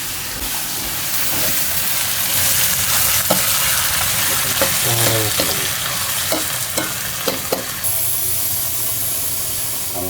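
Food sizzles and hisses loudly and steadily as it is stir-fried in a wok in a long-running restaurant kitchen, with scraping and clattering from stirring throughout.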